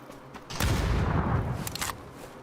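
Bursts of MG3 machine gun fire in a video game ring out, a loud sustained rattling volley for about a second followed by a couple of shorter trailing bursts, close and with no talk over it.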